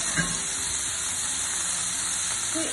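Seasoned beef sizzling in a ripping hot pan, a strong continuous hiss held steady throughout, close and loud, with a faint clink near the start.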